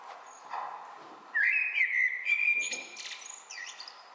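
A blackbird sings close by, starting with soft low notes and then breaking into a loud, fluid whistled phrase followed by shorter tuneful warbles and chirps, against quiet background noise.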